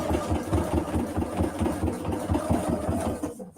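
A sewing machine stitches through a thick, bulky seam on a quilted fall market bag. A fast, even mechanical chatter of needle strokes runs close and steady, then stops abruptly at the end.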